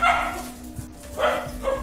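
A dog gives two short, close barks about a second apart, loud and abrupt against a quiet background.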